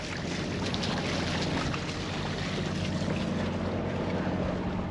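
A boat's engine hums at low revs while the vessel moves through water at about six knots, a steady low drone mixed with wind buffeting and water rush, continuous with no talking.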